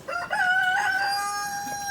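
A chicken rooster crows once, a loud, close cock-a-doodle-doo rising sharply and then holding a long, steady drawn-out note, with no one speaking.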